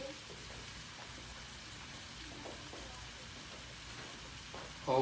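Shrimp and vegetables sizzle in a Power XL cooker, a soft, steady frying hiss like light rain that continues alone, with a brief louder clatter at the end.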